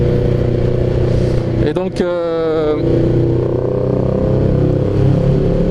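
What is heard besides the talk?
loud motorcycle engine without exhaust baffle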